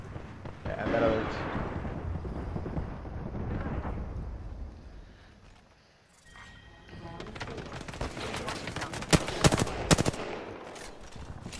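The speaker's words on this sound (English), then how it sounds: "Firing." Gunfire in the Apex Legends video game, loud dense bursts and sharp cracks crowding the second half after a brief lull, with game ambience and voices talking over it.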